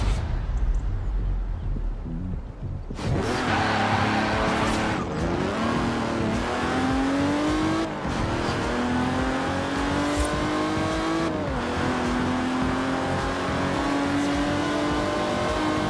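A car races in Forza Horizon 4, its engine revving hard and climbing through gear shifts, with tires squealing and skidding through corners. The sound is loud and continuous throughout, with no voices.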